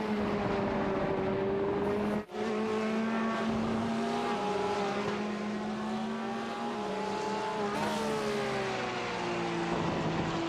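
GT3 race cars in a racing video game at Circuit of the Americas (COTA), engines droning steadily with harmonic tones that rise and fall through gear changes, one brief dropout, several cars layered together and no talk.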